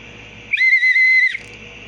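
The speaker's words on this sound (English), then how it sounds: "blowing into the whistle emits a high-pitched sound" A survival whistle gives one shrill, high-pitched blast lasting just under a second, loud and close, with faint background hiss around it.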